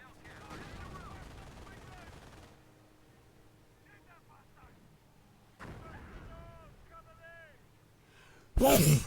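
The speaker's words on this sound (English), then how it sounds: "Now they're going to get pinned by the machine gun." Machine gun fire and battle noise from the Company of Heroes video game rattle in the background at low volume under a voice, ending in a sudden louder blast.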